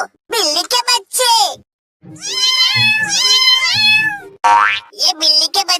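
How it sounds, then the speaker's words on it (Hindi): Kittens meow in a string of high, wavering cries, some overlapping, loud and close, broken by short pauses, with a child-like voice talking in between. "ये बिल्ली की आवाज कहाँ से आ रही है?"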